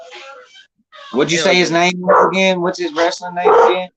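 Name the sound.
dog barking and whimpering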